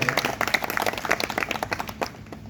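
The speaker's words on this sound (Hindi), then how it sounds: "तालियां बजा दो" An audience claps together at a religious welcome gathering with garlanding and sweets, the many hands forming a dense, steady patter that runs the whole stretch at moderate volume with no voices over it.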